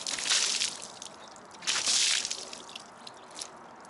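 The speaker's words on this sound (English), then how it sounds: "Now I'm going to grab a pitcher of water and throw it on the car." A pitcher of water is thrown onto a car's freshly coated paint, giving two splashy washes of water and a smaller trailing splatter, close and fairly loud, with no voices.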